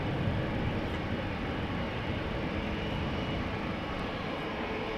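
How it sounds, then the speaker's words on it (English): A KLM Airbus A321 jet bound for Madrid at Amsterdam Schiphol produces a fairly faint, steady engine rumble, continuous and unvarying over the few seconds. "Yep, this is a KLM A321 to Madrid"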